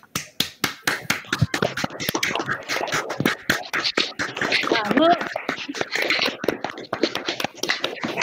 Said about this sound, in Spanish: le demos un fuerte aplauso a Carla